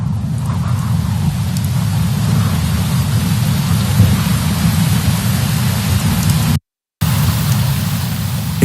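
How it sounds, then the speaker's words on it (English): Heavy rain pours over rainforest mountain tops beneath sheer cliffs, a dense, loud, constant roar with a deep rumble of thunder underneath and a brief silent gap near the end. "Moisture from the rainforest below is forced to rise by the sheer cliffs, releasing torrents of rain."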